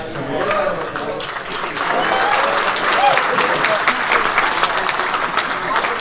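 Steady applause from an audience, a dense wash of clapping that swells slightly midway and continues throughout, with voices faintly mixed in.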